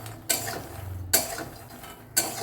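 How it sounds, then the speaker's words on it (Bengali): Makhana (fox nuts) dry-roasting in a pan over a low flame, with three sharp rattling scrapes of stirring at regular intervals over a faint low hum, close by, with no talking. "এবারে আমি লো ফ্লেমে 4 মিনিট ধরে আমি মাখানাটাকে ভেজে নিচ্ছি"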